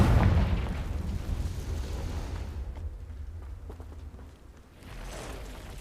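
A Confringo fire spell explodes in Hogwarts Legacy, a loud booming blast at the start that rolls off into a long rumbling decay, then a lower second swell near the end.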